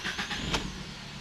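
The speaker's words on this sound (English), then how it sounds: "So now please run the engine and keep it idle." A Ford Focus engine runs at idle, a steady close rumble with a few faint rhythmic pulses and no talk.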